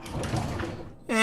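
A door closes in the point-and-click adventure game Monkey Island 2, a sliding, scraping mechanism sound against a busy background that ends abruptly before a voice begins.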